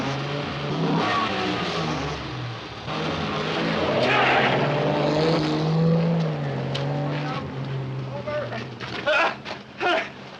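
A car engine revs and accelerates away on a 1950s British street, a loud droning growl climbing and shifting in pitch beneath frantic shouting voices, then fading.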